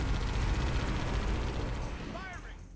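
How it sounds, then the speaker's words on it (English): Heavy blasts from a Wraith tank firing in the video game Halo Combat Evolved form a loud, dense rumbling barrage that gradually fades, with a voice talking over the end. "Wraith can only shoot like this."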